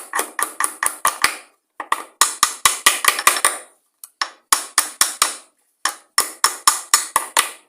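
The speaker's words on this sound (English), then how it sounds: "Just take your hammer, gently just tap." Rapid series of light metallic hammer taps in quick bursts, gently seating an oil seal on a lawn mower, each sharp and ringing, pausing briefly between groups.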